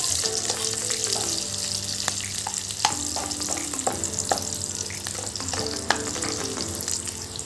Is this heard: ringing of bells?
no